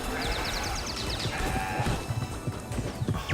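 Goats bleat in the video game CrossCode, several short repeated cries over busy game music and combat effects, with hoof-like clatter.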